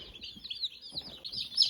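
Young Cornish Cross and Red Broiler meat chickens give faint, steady high peeps and soft clucks, a small flock chattering nearby without pause.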